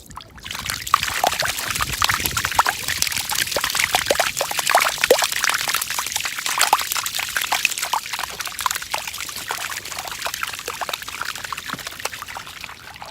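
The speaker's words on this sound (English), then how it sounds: "Count of 3, water's gonna come out." Water gushes out of a French drain outlet fed by a backyard sump pump, a loud, steady splashing pour with trickling spatter running continuously for the whole stretch.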